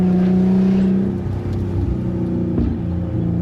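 Loud car exhaust with a new engine intake, revving hard close by with a steady droning tone and brief bursts that rise and fall, nearly backfiring.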